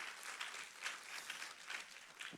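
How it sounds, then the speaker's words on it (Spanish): A church congregation claps in a steady, faint patter of applause across the room. "Dar un fuerte aplauso a Dios."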